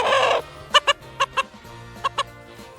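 A pet chicken clucks in short paired bursts, several distinct clucks spaced across the moment, close and clear over a quiet background.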